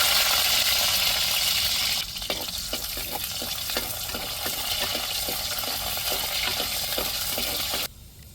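Onions hit hot oil already tempered with fenugreek seeds. A loud, bright sizzle is followed by a slightly softer crackle with regular spoon-stirring strokes, then the sizzle drops suddenly at the end. No voices are heard.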